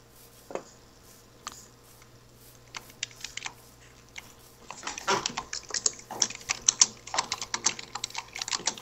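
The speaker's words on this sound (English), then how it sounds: "Dude, I can hear you typing." Close-up typing on a computer keyboard right beside a tablet microphone: sparse, isolated key clicks at first, then a dense, loud burst of rapid keystrokes with no talking.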